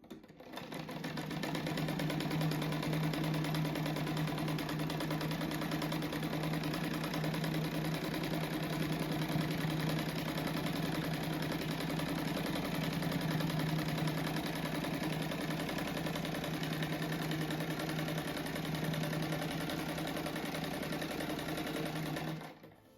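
A sewing machine runs steadily for about twenty seconds, stitching bias binding onto a crazy-quilt patchwork rug, a close, continuous mechanical hum that starts and stops cleanly and has no talking over it.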